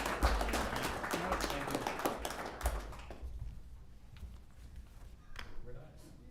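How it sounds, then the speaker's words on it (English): Audience clapping at a city commissioners' swearing-in ceremony, a burst of close hand claps mixed with talking that fades after a few seconds, leaving quieter voices and a few scattered claps. "You can clap."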